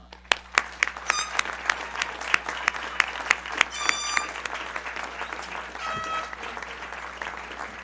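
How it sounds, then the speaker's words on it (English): A crowd at a high school graduation gives a standing ovation for the graduates and faculty, with sustained applause, sharp nearby claps and scattered whoops. "let's give a standing ovation"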